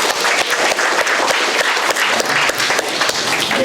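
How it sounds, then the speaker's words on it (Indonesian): Audience applause at an executive networking seminar session, a loud, sustained wash of many hands clapping close by, with no voices over it. "Kita berikan tepuk tangan."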